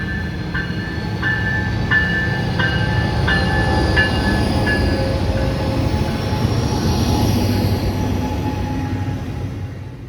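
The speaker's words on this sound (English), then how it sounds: "As the Crescent gets moving, the engineer gives a friendly tap of the horn." Amtrak's Crescent passenger train departs a station and rolls over a road crossing, a loud steady rumble of rail cars with a crossing bell ringing rhythmically in the first half before fading as the train continues past.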